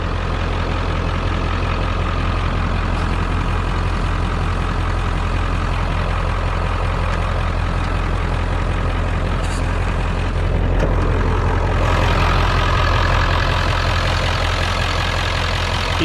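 A 1995 Ford F250 with a 7.3L Powerstroke diesel engine idling with a deep, steady rumble and clatter, close by and loud, shifting slightly in tone toward the end.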